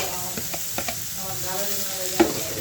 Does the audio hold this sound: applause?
no